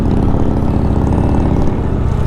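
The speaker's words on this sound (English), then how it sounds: "You got to give it to Harley Davidson. They put off a great exhaust note." A deep, rumbling Harley-Davidson motorcycle exhaust idles and burbles steadily throughout, loud and close, with no voices.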